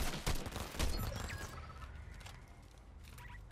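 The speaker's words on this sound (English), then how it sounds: "He's firing on me." Enemy gunfire in the Fortnite video game, a loud burst of rapid shots up front that thins into scattered, fainter shots and game noise, with no talking.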